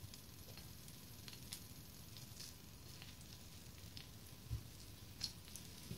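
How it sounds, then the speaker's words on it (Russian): Potato-filled pirozhki frying in hot oil in a pan over medium heat, giving a steady soft sizzle with scattered small crackles and pops, close and fairly quiet, with no voices. "Жарим на среднем огне сначала первую сторону, чтобы хорошо прогрелась наша сковородка."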